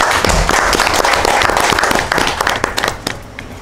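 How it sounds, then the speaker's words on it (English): An audience at a radio-hosted music event claps for several seconds, a dense loud patter of many hands that tapers off toward the end. "Allow me urge you to clap for yourselves."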